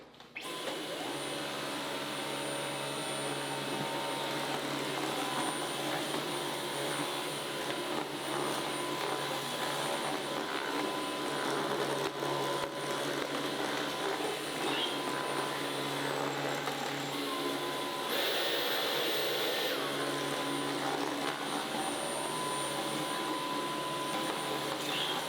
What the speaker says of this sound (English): Now, we're going to go ahead and get the vacuum.